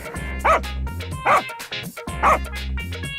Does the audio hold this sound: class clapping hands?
no